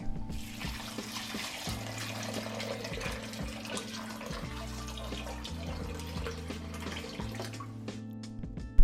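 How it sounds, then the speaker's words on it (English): Warm water pours steadily into a pot holding sweet potato and cashews, a continuous close splashing flow over soft background music, ending with a brief clunk. "Cover them with warm water."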